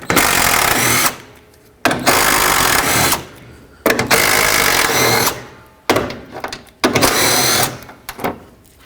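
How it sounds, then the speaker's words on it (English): A power drill or impact driver spins 10mm bolts out of a 2007-2009 Saturn Aura bumper, loud close bursts of whirring repeated about six times with short pauses between them. "Then switch to a 10mm and remove these 4 bolts here."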